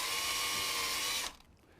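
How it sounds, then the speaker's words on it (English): A power drill pre-drills a screw hole for a paddle in a wooden foosball rod, running steadily and loud, close up for about a second before stopping abruptly. "I'm going to use this opportunity to pre-drill."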